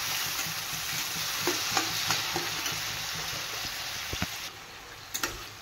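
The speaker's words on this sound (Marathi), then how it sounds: "त्याला आता टमाटर शिजेपर्यंत थोडं परतून घेते" Tomatoes with salt being sautéed in a pan for a potato curry; continuous soft sizzle with repeated spatula scrapes and taps against the pan, close and moderately quiet.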